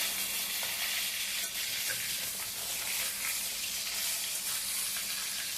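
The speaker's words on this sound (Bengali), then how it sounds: "মাছটা ভালো ভালোভাবে ভেজে তুলে নিতে হবে আমার মাছ ভাজা হয়ে গেছে" Tilapia fish fries in hot oil, a soft, even sizzling hiss that stays constant and fairly faint throughout, with no voices.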